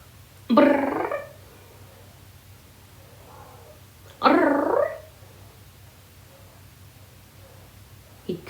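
A pet cat gives two distinct cooing, throaty meow-like calls several seconds apart, close and clear against a quiet room, with a brief start of another at the end.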